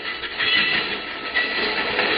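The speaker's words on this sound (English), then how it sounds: "Now lie low till the train goes past." A train rumbles past close by, a steady broadband roar with faint rhythmic clatter running throughout.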